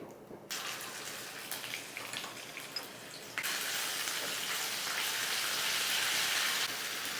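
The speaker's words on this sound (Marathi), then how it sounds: "जिरं मोहरी व्यवस्थित तडतडलं गेलं" Steady dense crackling and sizzling of mustard and cumin seeds spluttering in hot oil, close by, growing louder and fuller partway through, with no voices.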